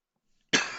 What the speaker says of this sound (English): had a coughing attack